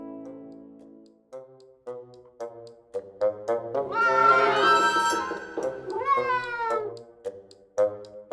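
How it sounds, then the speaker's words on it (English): A cat meows repeatedly in a science-fiction audio drama, a string of short calls building into long, drawn-out wails, then short meows again, close and loud with no speech over them. "I can hear him. Scratching, meowing."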